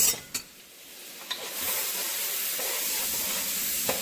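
Chopped small white onion and two minced cloves of garlic sauté in a pan, a steady bright sizzle that swells after the first second and a half, with a few soft utensil clicks near the start and end.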